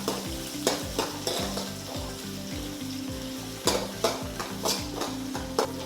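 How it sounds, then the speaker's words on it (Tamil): Sliced onions fry in a kadai while a ladle stirs them, a continuous sizzle broken by rhythmic scraping strokes and occasional metallic knocks against the pan, close and with no speech. "வெங்காயம் நல்லா பொன்னிறமாக வர வரைக்கும் வதக்கிக்கோங்க."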